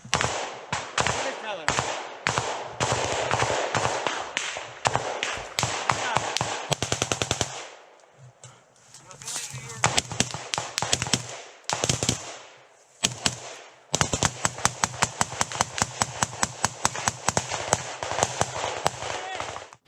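Heavy gunfire in close combat in a tree line in Donetsk, Ukraine: sustained rapid bursts and single shots crackle almost without pause, with voices talking amid the shooting.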